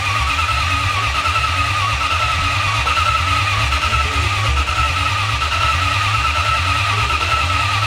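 Supercharged 1UZ V8 in a drift truck idling steadily after its first start, a loud, close, throbbing low rumble with a regular pulsing beat and a constant whine above it.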